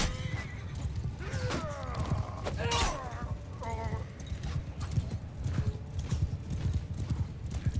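Galloping horse hooves in the medieval combat game Mount & Blade II Bannerlord, a steady rapid clip-clop lasting throughout, with whinnies and busy battle noise mixed in; a voice talks over it at times.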